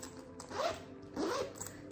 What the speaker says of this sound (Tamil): அண்ட் பின்னாடி பார்த்தீங்கன்னா இங்கேயும் ஒரு ஜிப் இருக்குது.